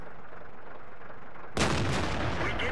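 Tank gun in World of Tanks firing from a Black Prince: one sudden, loud, broad blast that cuts in over low engine rumble and holds as a heavy roar to the end.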